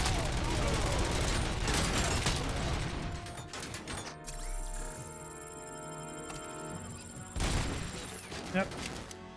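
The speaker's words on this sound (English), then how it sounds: "A lot of shooting." Rapid automatic gunfire and bursts of shots from the video game Robocop: Rogue City, loud and dense at first, then a quieter mechanical stretch before another heavy volley near the end.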